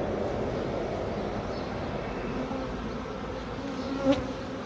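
A honeybee swarm buzzes steadily and loudly around the feeder on top of a hive. The dense drone holds for the whole stretch, with one brief louder swell near the end and no talking.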